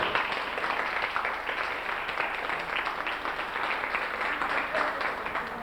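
Sustained audience applause fills a hall during a talk session, dense steady clapping at even loudness throughout with no pauses.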